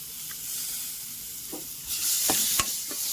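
A spoon stirs finely chopped tomatoes in a hot pan for paneer gravy, soft sizzling with a few scraping strokes and brief hissy bursts near the end; no talk.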